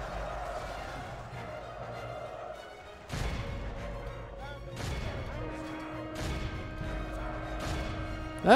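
Troops fire volleys in a Medieval II Total War battle: sharp crashing bursts land every second or so against a low battlefield din, with faint voices mixed in.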